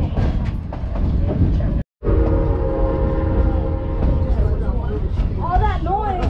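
A train on the Cumbres & Toltec Scenic Railroad rumbles loudly over a Forest Service road crossing, with heavy rolling noise, squealing wheels and a horn-like tone, under a voice talking.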